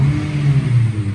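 A Honda car engine with a single overhead camshaft revs steadily nearby, a loud, even mid-pitched drone with a faint rattle and no voices over it.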